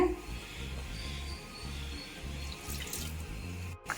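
Water runs steadily from a tap into a cooking pot for a curry, a continuous splashing gurgle with a few small knocks, no voices.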